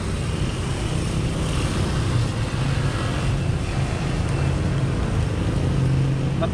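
A Toysky S188 budget drone flying, giving a continuous, steady motor whine and buzz that holds at an even loudness throughout, with no talk.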